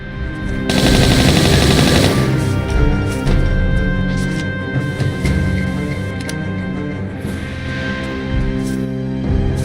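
Sustained automatic gunfire from a machine gun in Tomb Raider III, loud rapid bursts filling the whole stretch with dense repeated shots, with no speech over it.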